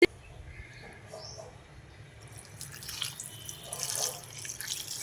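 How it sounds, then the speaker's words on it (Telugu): Water poured into a pot of bitter gourd with tamarind, turmeric and salt for a tangy stew, a faint trickle that builds into a splashing pour over the last two seconds, with no talk. "ఇందులో కొన్ని వాటర్ పోసేసి"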